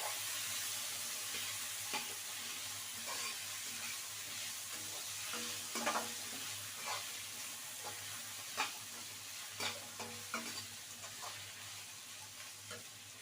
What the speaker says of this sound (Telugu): టమాటా వేసేస్తున్నాను.